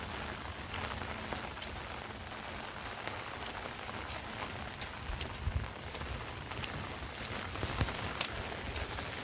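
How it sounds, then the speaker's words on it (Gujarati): Rain falls steadily on a farm field, a constant soft patter with scattered sharper drops close by and no voices. "અહીંયા તો વરસાદ ચાલુ થઈ ગયો"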